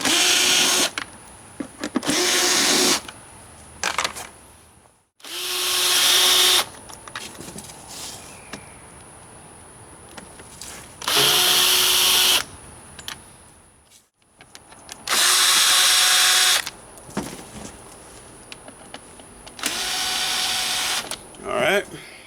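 Power drill removing bolts from the tank cover of a Yamaha Banshee, heard in several loud whirring bursts of a few seconds each, close up, separated by quieter pauses with faint handling noise.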